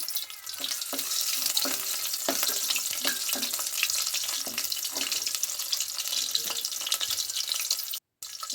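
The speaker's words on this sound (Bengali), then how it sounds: "এবার আমি 2-3টে শুটকি মাছ দিয়ে দেবো তেলের মধ্যে" Dried fish fries in mustard oil, sizzling steadily in a pan while a utensil scrapes and knocks irregularly; the hiss is continuous and fairly close, with no talking.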